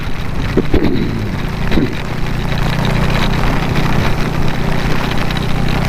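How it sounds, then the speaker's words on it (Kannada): A dense, steady roar of heavy rain on a road between Kuppalli, Sringeri and Kudremukh, broadband hiss with a low rumble underneath, continuous throughout. "ಮಳೆ ಸರ್ರೆ ಬರ್ತಾ ಇದೆ"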